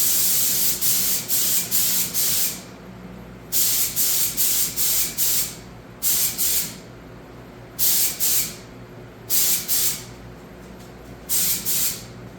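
Repeated bursts of aerosol clear coat sprayed onto an ATC250R part during restoration, about six hissing passes of a couple of seconds each, separated by short pauses, close and steady.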